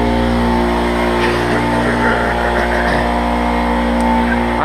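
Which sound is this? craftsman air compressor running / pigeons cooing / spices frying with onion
craftsman air compressor running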